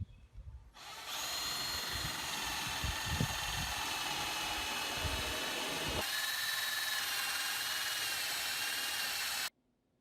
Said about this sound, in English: I drill the last 2 holes in the other end and put in my last 2 bolts